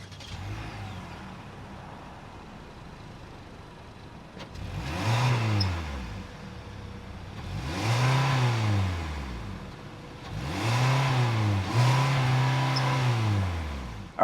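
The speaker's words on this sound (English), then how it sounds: "that was the sound of the naturally aspirated 2-liter 4-cylinder sold by Kia." A 2025 Kia K4 LXS's naturally aspirated 2-liter four-cylinder idles, then is revved three times in rising and falling bursts, moderately loud and near, with no talk.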